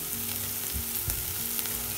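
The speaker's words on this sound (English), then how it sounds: "my squid is cooking very nicely" Tamarind squid sizzles fast in a hot pan, a close, steady frying hiss with small pops and light clinks, and no voices.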